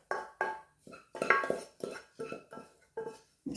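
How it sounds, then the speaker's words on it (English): Roasted vegetables tipped into a bowl of chestnuts for a festive chestnut roast, giving a run of about ten short, close clinks and knocks against the bowl in an uneven rhythm, with no voices. "So now I add those to the bowl with the chestnuts."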